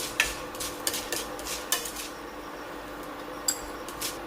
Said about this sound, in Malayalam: നമുക്ക് ഇതെല്ലാം ഒരു പാത്രത്തിലേക്ക് മാറ്റി വെക്കാം